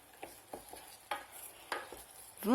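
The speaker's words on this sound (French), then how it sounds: "Et je remue." A spoon stirs apples with cinnamon in a cooking pan, giving a few soft, close scrapes and light sizzling spaced out over a short, quiet stretch.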